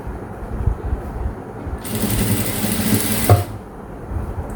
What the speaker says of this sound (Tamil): ஸோ ஃபோல்ட் பண்ணி இதை உள்ளே வச்சுட்டு அதுக்கப்புறம் ஃபோல்ட் பண்ணி ஸ்டிச் பண்ணணும்.